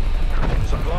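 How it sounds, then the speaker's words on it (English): Artillery strike explosion in Call of Duty Cold War, a brief, dense, rumbling boom that fills the short moment with loud low-frequency roar. "Artillery targeting detected. Artillery inbound."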